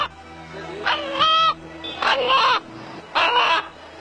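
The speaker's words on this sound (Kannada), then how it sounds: "ಒಂದು ಹುಂಜ ಇದೀಗ ಅಲ್ಲ ಅಲ್ಲ ಎನ್ನುವ ಶಬ್ದವನ್ನು ಹೊರಹಾಕುವ ಮೂಲಕ" A rooster at a centre in Mehboob Nagar, Gulbarga, gives three loud, close, drawn-out crowing calls with short pauses between them, each call said to resemble the word 'Allah', heard alone with no talk.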